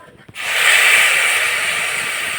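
Water hits a hot pan holding grated coconut and jaggery, bursting into a sudden loud sizzle that settles into a steady, close hiss.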